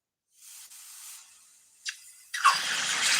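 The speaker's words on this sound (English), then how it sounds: "Listen for the quench." Hot cast copper dropped into water during a live pour gives a short sharp sizzle, then a louder burst of hissing steam that keeps spraying to the end, preceded by fainter quieter hiss.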